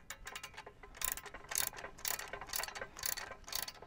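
A BAL leveler ratchet cranks up a camper trailer wheel with repeated metallic clicking in steady bursts, close but fairly quiet, and no talking.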